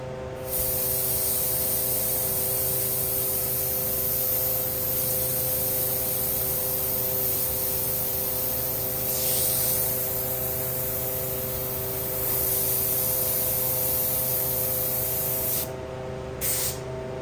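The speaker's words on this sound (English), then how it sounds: "when you're airbrushing cracks" An airbrush sprays paint for crack details on a midnight purple skull artwork, a continuous close hiss over a low electrical hum, with short breaks near the end.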